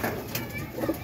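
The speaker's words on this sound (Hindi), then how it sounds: "ये कमगर कबूतर पकड़ा है अभी।" A freshly netted Kamagar pigeon coos softly in a brief burst, close by, with a faint flutter of wings.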